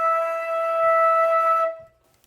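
A flute holds a steady, clear low E for about a second and a half, then the tone stops and a faint breath or click follows.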